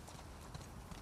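Faint horse hooves clip-clop in a quick, uneven rhythm for about a second inside the video game The Last of Us Part 2, quiet and close.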